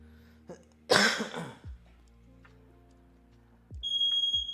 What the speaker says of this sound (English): Fucking fire alarm. Look at that.